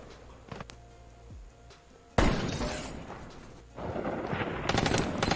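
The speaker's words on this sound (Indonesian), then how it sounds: "Seketika mobilnya Jack diberondong peluru." Sudden loud burst of gunfire erupts in an action film scene after a quiet stretch, with a dense volley followed by renewed sustained shooting and glassy crashing debris, no talk.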